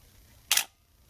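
A single quick shutter release on an Olympus OM-1 35mm film SLR, one crisp mechanical snap standing alone in a quiet room.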